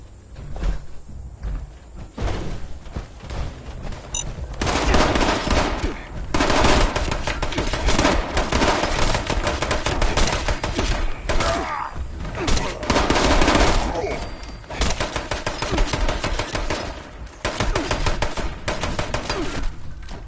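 Video game gunfire aimed at the player, with bursts of rapid automatic shots and fusillades that come and go over about twenty seconds, following a quieter opening.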